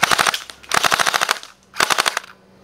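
An airsoft MP5, a Tokyo Marui fed from a Well magazine, fires three quick full-auto bursts of rapid crisp clacks with short pauses between them, loud and close.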